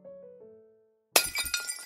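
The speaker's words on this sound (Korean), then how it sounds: "허리에 매단 항아리가 바닥으로 떨어졌지 뭐야?" A clay jar falls to the floor and shatters, a sudden loud crash with scattering fragments after a soft musical tone fades to silence.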